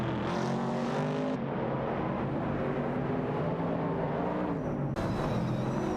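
Pontiac Firebird 70 and Chevrolet Camaro 69 race cars in a video game, engines droning steadily with shifting pitch for the whole stretch, a gear-change break near the middle, no talk.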